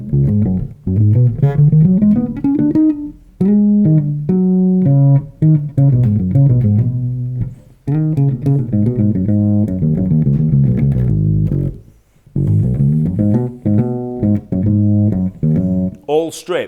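Electric bass playing a unison line with a straight, even feel, rapid melodic runs of clear plucked notes in phrases separated by short pauses, solo and close.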